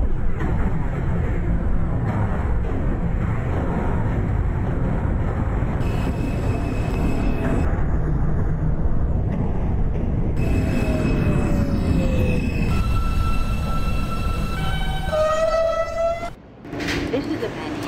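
A Manhattan-bound J local subway train runs in the OpenBVE train simulator game, with a steady loud rumble and rising, whining motor tones that climb in pitch before a brief drop near the end.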